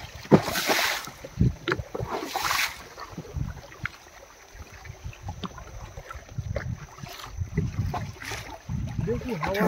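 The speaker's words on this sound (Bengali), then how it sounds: "দেখো কি বড় বড় ঢেউ আসছে" Storm-driven waves in the Sundarbans slap against a small wooden fishing boat, rising in loud gusty surges with wind buffeting the microphone, and voices call out in alarm between the splashes.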